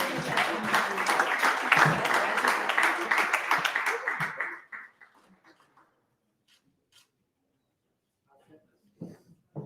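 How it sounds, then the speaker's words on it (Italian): Audience applause at an Italian conference event during a group photo, dense clapping filling the first half of the clip before cutting off into near silence with a few faint stray sounds. "Se durante la foto applaudite"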